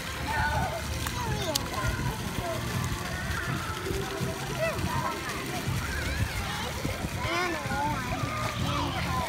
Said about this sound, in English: Splashing?